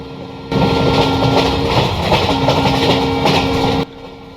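ICF passenger coaches of the Kottayam-Nilambur Express running at about 110 km/h in Railworks, with a steady rumbling track roar and faint rhythmic clatter that starts suddenly and cuts off near the end.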